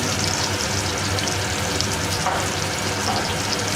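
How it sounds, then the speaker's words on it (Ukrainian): Steady, close sizzling of zucchini fritter batter frying in hot oil in a pan, a continuous crackling hiss with no talking. "Просмажуємо до золотої скоринки."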